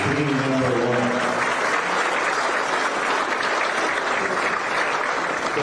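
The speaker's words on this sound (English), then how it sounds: "Let's give Mike a round of applause for being number 1." An audience at an award ceremony for a golf resort developer breaks into sustained, loud applause, a dense wash of clapping that holds steady throughout with no speech.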